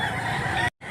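A rooster offered for sale at a rural market in Mantalungon, Cebu gives a short, close, throaty fowl call lasting under a second before cutting off abruptly.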